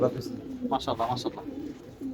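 A tournament racing pigeon coos in short soft bursts close by, with a person talking around it.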